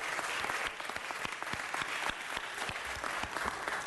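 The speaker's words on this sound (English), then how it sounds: "Let's give them a round of applause." A city council meeting audience claps in a brisk, crisp round of applause, many hands at once, steady and fairly close, with no speech over it.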